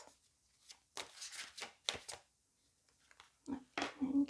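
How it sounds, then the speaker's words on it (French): Tarot cards being shuffled by hand, several quick riffling bursts separated by short pauses, close and crisp, with a soft thud near the end. "on va aller voir les cartes pour essayer de vous aider pour traverser ce défi. On va demander les 3 cartes."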